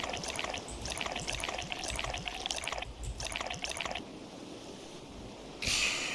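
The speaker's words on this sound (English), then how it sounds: "Oh no, I hate pouring beer." Beer being poured into a glass in the video game Dave the Diver, heard as bursts of fizzy, splashing liquid in short pulses with pauses between, ending in a brighter final splash.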